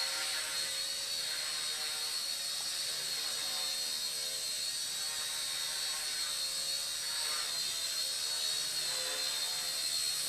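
A small Hisky HCP60 RC helicopter's rotor whines steadily at high pitch at full throttle, continuous and close, with a constant buzzing drone and no talking.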